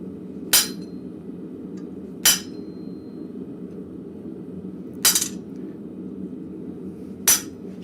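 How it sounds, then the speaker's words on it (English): A cold chisel is struck to mark steel shelf bracket stock in a blacksmith shop: four sharp, ringing metallic hammer blows spaced a couple of seconds apart over a low steady background hum. "I'm also going right across where I'm going to fold it with my cold chisel."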